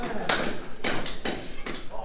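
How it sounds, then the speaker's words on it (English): A manual jackhammer strikes concrete at a house build site in the Philippines, delivering about five sharp, fairly close impacts at a steady rhythm. "Real jackhammer there, huh? See, manual jackhammer."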